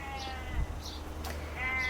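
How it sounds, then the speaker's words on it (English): A sheep bleats faintly from a distance outside near a garden greenhouse and allotment, a few thin wavering calls over low steady background noise. "Can you hear that sheep?"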